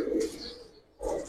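Silver khaki pigeons, Giribaz and coloured fancy birds, cooing close by in two short low bursts separated by a brief gap, with some chirpy handling noise above.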